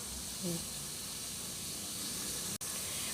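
Eggs cook in a hot pan with a steady, hissing sizzle that continues throughout, a brief low murmur near the start and a sharp dropout near the end.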